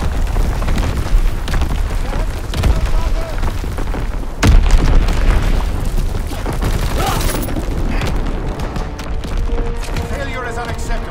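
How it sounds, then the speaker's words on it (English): Incoming artillery shells explode in the Call of Duty: WWII video game: a sharp, close blast stands out midway and a second burst follows, over a constant roar of battle noise and distant gunfire. "Incoming enemy artillery! Get to cover! Enemy bomb incoming!"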